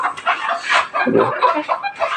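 A hen clucks repeatedly near a quail enclosure, a close, busy run of short clucks and squawks with one deeper burst midway.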